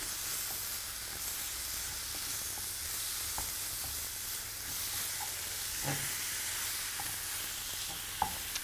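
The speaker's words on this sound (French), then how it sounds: "J'essaie de ne pas parler pour laisser les téléspectateurs entendre le bruit du cuisson" Parsley, pepper and other ingredients sizzle steadily in a hot pan, a continuous close frying hiss with occasional faint stirring clicks and no talking.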